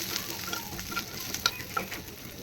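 Garlic fries steadily in hot mustard oil in a pan while a utensil stirs, giving occasional light scrapes and pops over the constant crackling hiss.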